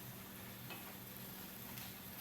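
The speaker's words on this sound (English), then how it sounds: "our ground meat here is browning very nicely" Ground meat browning in a skillet on a stovetop burner gives a steady, even sizzle throughout, with a few faint scraping stirs and no talking.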